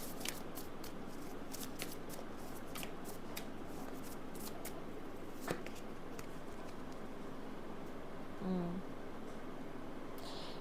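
Tarot cards are shuffled and drawn by hand: a run of soft, papery flicks and snaps at a steady pace, close and fairly quiet over a faint background hum.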